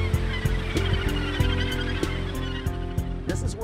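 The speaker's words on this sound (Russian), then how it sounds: "Здесь также гнездятся сотни австралийских олуш." Australasian gannets calling at a crowded nesting colony on the Tasman Sea coast of New Zealand, harsh honking cries repeating in a steady close chorus with many overlapping birds.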